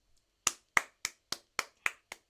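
Seven sharp hand claps, close and evenly spaced about a quarter second apart, applauding a child's dance performance during a live online musical show for kids; no one talks over them.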